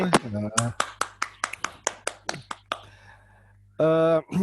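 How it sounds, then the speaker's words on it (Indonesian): A short run of evenly spaced hand claps, about ten crisp claps, fairly close, between bits of a voice talking at the start and end. "Tepuk tangan dulu dong teman-teman buat givers kita sore ini."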